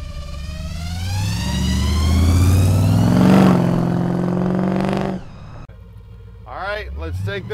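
An old 1956 Ford pickup's engine revs up loudly and climbs steadily before cutting off. A voice speaks briefly afterward.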